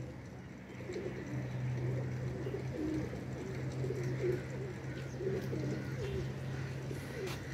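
An old blue pigeon with black eyes cooing close by in repeated soft, throaty phrases over a low steady hum, with faint background noise.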